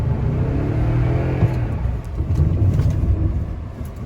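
A vehicle on Nitto Exo Grappler AWT tires floored in snow with auto-LSD engaged and traction control switched off, engine revving hard and rising in a loud, close, continuous surge with a brief dip midway.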